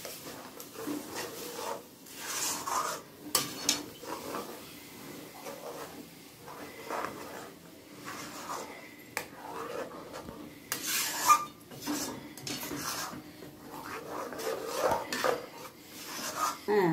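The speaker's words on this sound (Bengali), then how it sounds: "এইবারে আমি এটাকে এইভাবে নাড়তে থাকছি।" A spoon stirs dhoka malai curry in a pot over a gas flame, making repeated scraping and rasping strokes against the metal in uneven bursts, fairly close and without talk.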